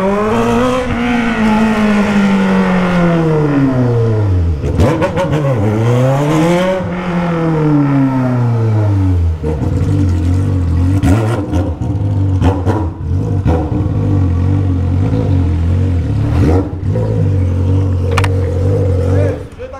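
Honda Hornet motorcycle with an Atalla 3-inch 4-into-1 straight-pipe exhaust, loud and close, revving up and down repeatedly through sweeping rises and drops before settling into a steady high drone.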